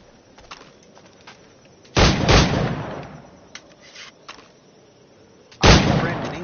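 Firearm gunshots in Assassin's Creed: Black Flag: two loud, sharp blasts several seconds apart, each with a decaying tail, over quieter scattered clicks and ambient noise.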